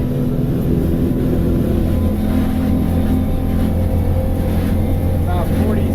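A Hewescraft 24 Ocean Pro boat runs at full throttle, giving a loud, steady outboard engine drone with wind and water rush, close and continuous throughout.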